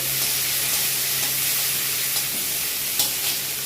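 Two tomatoes fry in hot oil in a home kitchen, giving a loud, steady sizzle and hiss. A few soft stirring clicks and scrapes break through the sizzle, with no talking.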